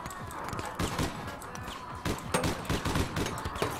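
Gunfire in APB Reloaded, a game set on city streets, with several sharp loud shots and bursts ringing out over steady background action while a voice talks.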